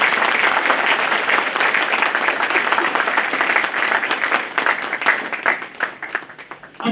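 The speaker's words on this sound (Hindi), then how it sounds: "मैं चाहूंगा कि मेरे साथी और पूरी बार काउंसिल के लिए आप जोरदार तालियां" A Bar Council of Delhi enrolment meeting audience gives a loud, dense burst of applause that holds steady, then thins into scattered claps toward the end.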